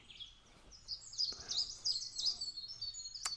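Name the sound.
birds singing outdoors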